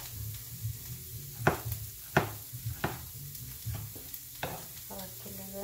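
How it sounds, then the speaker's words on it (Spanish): Onion, garlic and chili sautéing in a small amount of fat, a low soft sizzle with several distinct scraping or tapping stirs against the pan, close by and fairly quiet. "la grasita es nomás para sofreír la cebolla y el ajo y chile"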